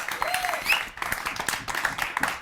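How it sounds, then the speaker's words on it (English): A studio audience applauds, brief scattered clapping that swells and holds for a couple of seconds beneath some faint voices. "Ladies and gentlemen, round of applause,"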